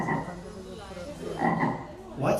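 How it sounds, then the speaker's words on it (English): Frog croaks at a children's school annual day stage performance, a few loud, rough calls in quick bursts, standing alone without talk over them. "It's a frog."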